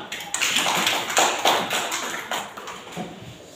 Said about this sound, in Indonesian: Amel, tepuk tangan tuh Amel.